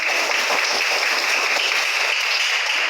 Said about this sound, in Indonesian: sekali beri tepuk tangan dulu